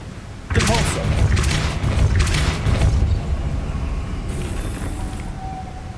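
A Depulso spell impact in Hogwarts Legacy, a sudden loud booming blast with rumbling, crackling debris that lasts a few seconds before fading into a low ambient hum and a faint magical shimmer.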